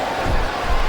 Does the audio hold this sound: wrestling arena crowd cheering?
yes